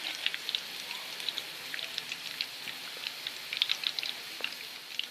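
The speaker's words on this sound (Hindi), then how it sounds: "इसी तरह मैं दूसरे कबाब भी फ्राई कर लूँगी।" Boneless fish shami kebabs fry in a pan with a quiet, continuous crackling sizzle and scattered small pops, heard alone without talk.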